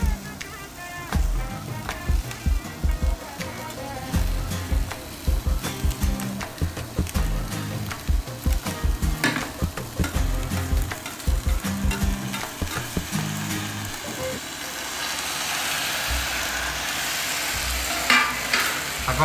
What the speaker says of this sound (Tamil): அப்படியே வதக்கி பையிங் பண்ணலாம்.